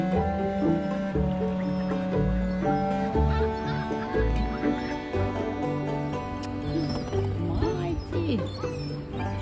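A large, noisy flock of birds by the water, with geese honking repeatedly and loudly among ducks and pigeons. The calls overlap in a dense, continuous chorus, and voices murmur faintly underneath.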